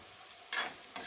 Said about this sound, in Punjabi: ਪਿਆਜ਼ ਨੂੰ ਥੋੜੀ ਦੇਰ ਲਈ ਹੋਰ ਭੁੰਨ ਲਾਂਗੇ